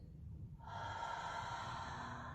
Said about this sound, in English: inhale through the nose and onto the mirror so you can feel your breath